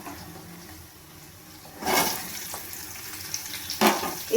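Chopped vegetables dropped into hot oil tempering with onions in a pan, a sudden burst of sizzling followed by a second splash of frying noise and steady crackle, close and fairly loud.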